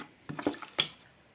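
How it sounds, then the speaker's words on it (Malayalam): An Amrutham powder mixture for halwa is poured through a strainer, giving a few soft, close liquid splashes and drips over little more than a second. "മിക്സ് ചെയ്തിട്ട് നമുക്കിതൊന്ന് അരിച്ചെടുക്കണം"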